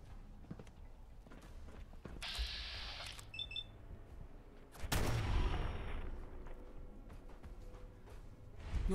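Sharp shotgun blasts from a scrap-loaded makeshift gun burst out in a Fallout London game soundscape, a loud boom followed by rattling debris amid softer clicks and scattered impacts.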